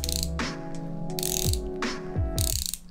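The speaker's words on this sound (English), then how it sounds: "I found a screwdriver which works with exactly the same principle" A ratchet screwdriver clicking in rapid bursts as it is turned back and forth, loud and close with a whirring mechanical edge and no talk.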